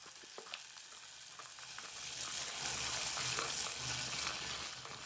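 Tomatoes and sprouted beans fry in a pan with a steady, close sizzling hiss that swells and stays loud, broken by faint scrapes of stirring.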